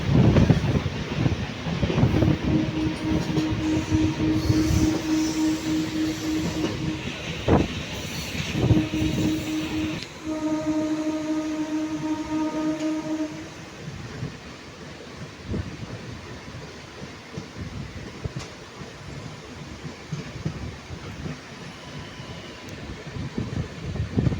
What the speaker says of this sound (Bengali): ট্রেনটা ফুল করতে চলছে, ফুল স্পিড, এত হাওয়া রয়েছে